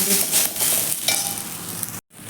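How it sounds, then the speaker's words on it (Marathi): Cluster beans stir-fried in a hot pan for a Maharashtrian gavar bhaji, with steady close sizzling broken by scraping spatula strokes, then a brief silence and the sizzle resuming. "त्याचा कलर चेंज होईपर्यंत आपण परतून घ्यायचे आहे या पद्धतीने आपण भाजून घेऊया"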